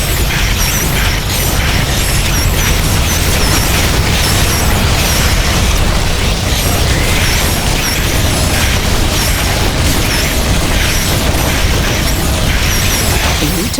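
Alien creatures attacking a base in The Riftbreaker, a dense, continuous barrage of loud explosions, booms and mechanical clatter with no letup.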